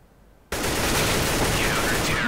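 Rapid automatic gunfire in CS:GO erupts suddenly after a brief quiet moment and continues as a loud, unbroken burst to the end.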